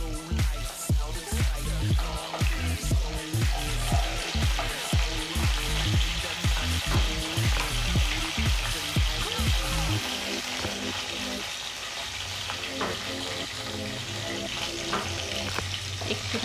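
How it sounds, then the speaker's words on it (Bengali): Chopped garlic frying in oil for egg tarka, a close, busy sizzle broken by rapid rhythmic stirring clatter that stops midway, leaving a steadier, softer crackle of hot oil. "উঠিয়ে দিচ্ছি রসুনটা"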